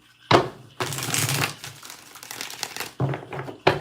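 Tarot cards being shuffled by hand in a few bursts of papery riffling and flicking, close and moderately loud, with short pauses between passes.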